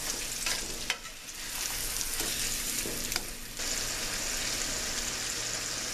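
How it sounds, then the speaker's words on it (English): Steaks sear in a hot pan for steak pizzaiola, a dense, steady sizzle with a few sharp ticks and a brief dip midway before the hiss resumes at full strength; no one talks. "Now we're going to throw our steaks on and we're going to just sear them about 1 minute on each side."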